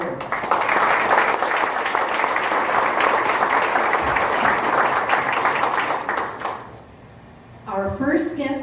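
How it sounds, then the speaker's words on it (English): Loud, sustained applause from a gala audience after faculty awards, many hands clapping evenly before it dies away, then a person begins speaking. "let's have another round of applause for all of the faculty awards"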